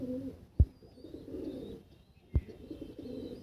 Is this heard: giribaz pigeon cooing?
yes